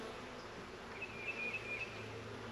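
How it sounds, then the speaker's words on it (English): Honey bees hum in an opened hive box during a queen excluder check, a faint, steady drone with a brief higher whine passing midway. "There's a lot of bees on the walls though"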